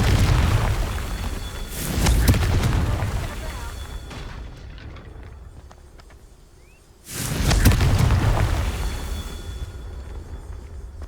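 Fiery spell explosions in the Hogwarts Legacy video game, two loud booming bursts with rumbling tails a few seconds apart, the second following a brief quieter gap, with a voice also present.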